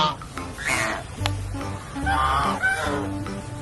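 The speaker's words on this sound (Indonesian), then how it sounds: "Wah, ini bebek teman-teman" A toy duck makes several nasal quacks and honks in a quick series, loud and close over a busy background.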